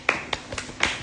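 A few scattered hand claps ring out close by, four or five sharp hits spaced unevenly over about a second.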